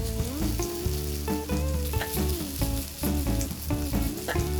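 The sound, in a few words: shredded potato frying in hot pan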